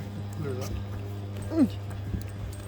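Dogs on an evening walk across a bridge at an RV park bark, whimper and yip in short bursts, one sharp whining yelp standing out over a steady low hum and background voices.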